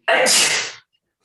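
A single sharp, loud sneeze, bursting out suddenly and cutting off after less than a second.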